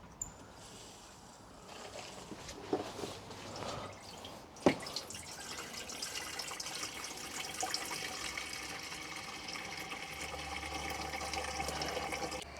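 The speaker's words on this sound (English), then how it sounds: "I'm just going to use hose pipe, fill this up." Water from a garden hose fills the coolant tank of a supercharged BMW E86 Z4 coupe, a soft continuous trickle and splash that grows fuller over several seconds, with occasional light knocks nearby.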